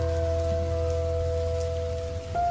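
Heavy rain falling at night near a roadside shop by the Lataguri forest, a steady dense wash of rain under a constant low hum with a sustained tonal drone.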